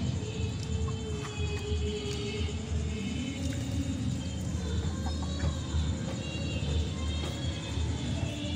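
Hens clucking softly and steadily while they eat homemade organic feed, several birds nearby over a constant low rumble of background noise.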